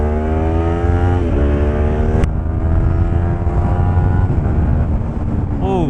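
A motorbike pulls hard up a highway on-ramp, its engine note climbing steadily through the revs with a brief shift partway through, loud and continuous over heavy wind rush.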